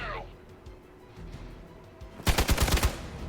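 Rapid burst of gunfire strikes the player character in a video game, a loud cluster of sharp cracks arriving all at once late in the moment after quieter background game sounds and a brief voice.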